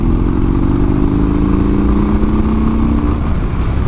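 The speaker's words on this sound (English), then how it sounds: "it's a Harley, in case you can't hear." A 2016 Harley-Davidson Street Bob motorcycle engine rumbles loudly and steadily nearby, a deep continuous throb with no voices.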